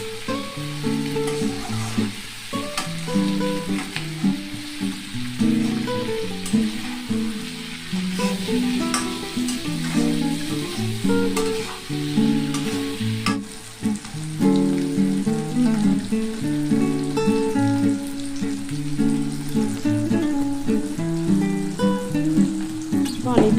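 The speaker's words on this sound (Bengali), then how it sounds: "ভালো করে কষাতে হবে যতক্ষণ না তেল রিলিজ না হয়" Spiced masala paste sautéing in oil in a pan for an egg and fish curry gives a steady, continuous sizzle and occasional stirring over about 24 seconds, set under a melodic musical background.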